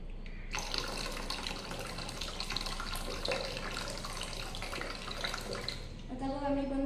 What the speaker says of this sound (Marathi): मग जेव्हा वरचा नळ चालू केला तेव्हा हवा बॉटलमध्ये गेली आणि हवेच्या दाबाने पाणी बाहेर पडले.